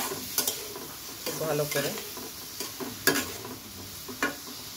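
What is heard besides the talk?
spice paste being stir-fried with a little water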